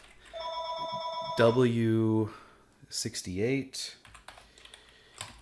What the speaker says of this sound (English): the phone never rings. Except when I'm doing this.